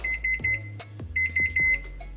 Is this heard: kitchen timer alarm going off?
yes